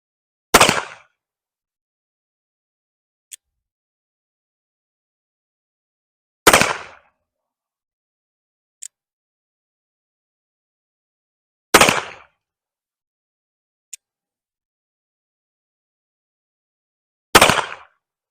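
An M1862 Colt Pocket Police revolver fires four single shots spaced several seconds apart, each a sharp, loud crack with a short decaying tail, with faint clicks between shots and no talking.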